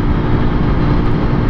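A Zontes 125 Hypertrail motorcycle's single-cylinder 125 cc engine drones steadily at high revs while cruising on the road, a continuous loud buzz mixed with wind rush.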